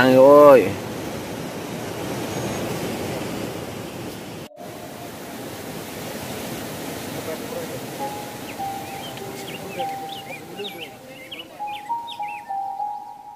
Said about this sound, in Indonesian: Gemuruh air terjun dan kicau burung yang sedang bernyanyi